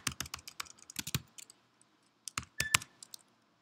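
Irregular bursts of crisp key clicks come from a computer keyboard, typed close by in short runs with a brief pause midway and no talking.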